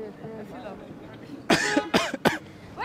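Several sharp, loud coughs burst out in quick succession after a stretch of quiet talking.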